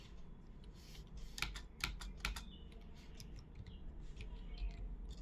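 Code being typed on a computer keyboard, a faint run of quick clicking keystrokes with a few sharper taps, set against a low background hum.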